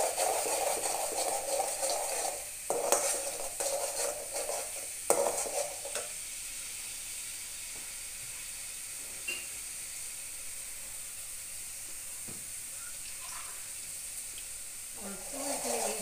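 Spices are fried in a pan with Kashmiri chilli, turmeric and salt, giving a continuous sizzle and hiss. Occasional scraping stir strokes sound over it, close by, with no speech.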